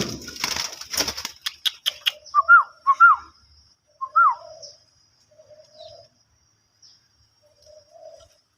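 After a few sharp clicks, a caged two-month-old zebra dove gives several soft rolling coos, then quieter distant calls follow in a calm, still setting.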